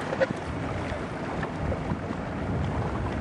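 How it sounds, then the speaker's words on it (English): A sailboat races under way, with steady wind and water rush blending into a continuous broadband wash of hull and breeze noise, no voices present. "Okay, we're sailing, thank goodness."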